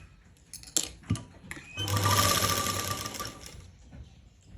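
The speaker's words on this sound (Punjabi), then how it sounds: "ਇਹਦੇ ਉੱਪਰ ਉੱਪਰ ਹੀ ਸਲਾਈ ਦੇ ਰੱਖ ਕੇ ਇਸ ਤਰ੍ਹਾਂ ਆਪਾਂ ਹੁਣ ਲਾਈ ਜਾਵਾਂਗੇ" A sewing machine stitches lace onto fabric along a slit edge. A few clicks and handling knocks lead into a steady whirring burst of stitching lasting about two seconds, which then fades out. No voices.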